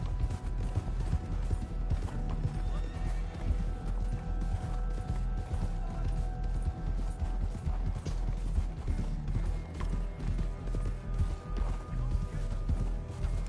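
Horse hooves drum steadily through a Red Dead Redemption 2 Online ride, a continuous galloping beat pressed under busy game ambience and music with no break across the stretch.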